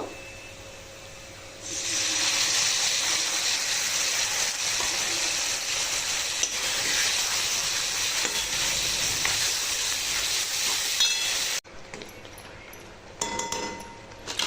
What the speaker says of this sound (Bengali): এবার আমি কাঁচা লঙ্কা, রসুন, পেঁয়াজ দিয়ে একটু ছুঁকে নেব।